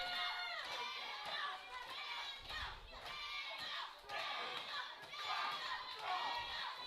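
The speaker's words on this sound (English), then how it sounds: "This crowd very solidly behind Alexander." A wrestling crowd at an independent pro wrestling show cheers and shouts, rising and falling in loud waves of excited voices, with high-pitched yells standing out.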